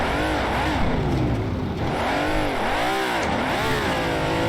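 A classic Ferrari Can-Am race car engine howls in the Assetto Corsa racing game, loud and close, its pitch sweeping up and down repeatedly through rapid gear changes under hard acceleration.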